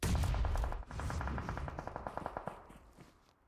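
Rapid automatic gunfire in a PUBG Mobile esports match, a long sustained burst of evenly spaced shots that trails off toward the end, with no voices over it.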